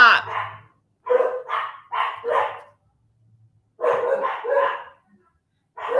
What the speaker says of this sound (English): Caitlin likes to get the dogs all riled up.